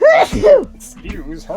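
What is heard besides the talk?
sneeze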